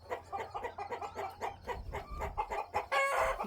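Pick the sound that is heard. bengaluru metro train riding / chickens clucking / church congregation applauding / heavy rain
chickens clucking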